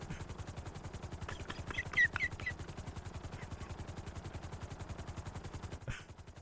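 Rapid bursts from a mounted gun in the game GTA, firing in a steady rattling string across most of the stretch, faint and distant-sounding.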